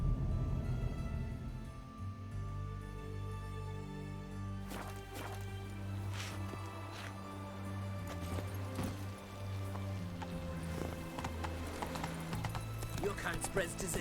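Horse hooves clip-clop at a walking pace while riding in The Witcher 3, a steady rhythmic beat under a low sustained music drone, with occasional louder sharp game effects.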